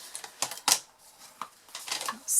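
Paper being burnished along score lines while making a box, a series of short, close scraping and rubbing strokes with a light clatter of scissors.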